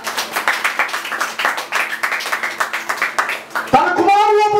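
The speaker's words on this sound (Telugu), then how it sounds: "చప్పట్లు కూడా ఒకసారి గట్టిగా." A church congregation claps loudly in a rhythmic burst of hand claps for several seconds, with a voice talking under it, before a tonal sound cuts in at the end.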